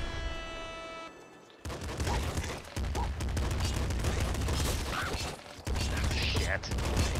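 Machine gun fire in the co-op shooter Nuclear Throne, rapid sustained bursts of gunshots with thuds and impacts over game music, loud and continuous after a brief quieter start, with voices talking now and then.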